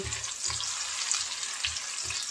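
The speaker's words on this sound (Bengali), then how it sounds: "পেঁয়াজটা একটু ভেজে নেব" Onion frying in hot oil with cardamom, cinnamon, cloves and bay leaf for a beef bhuna gives a steady, bright sizzle, with soft low thumps of stirring at a regular pace.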